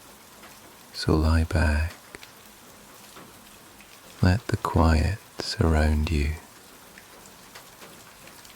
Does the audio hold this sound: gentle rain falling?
yes